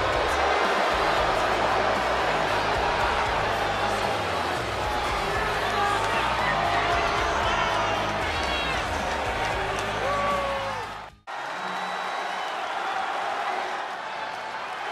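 A large arena crowd roars and cheers steadily in the wrestling game WWE 2K, under a commentator talking throughout, before the noise cuts out briefly and resumes more faintly.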